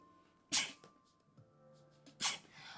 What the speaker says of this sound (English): it's the worst being a multiple sneezer